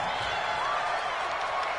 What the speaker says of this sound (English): The crowd's not doing that O-line any favors.